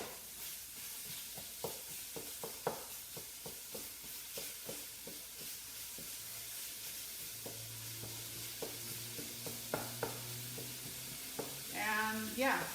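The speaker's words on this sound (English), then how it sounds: "So now I'm just going to break up this meat." Ground beef sizzles in a frying pan while a spoon breaks it up and stirs, with soft irregular scraping taps over a low steady fry, quiet and close.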